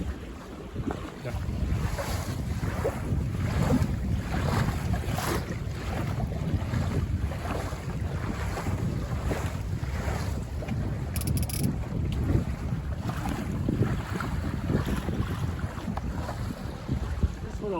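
A Buccaneer 18 sailboat day sailing around an island, with steady wind buffeting and water rushing against the hull throughout, loud and continuous without talk.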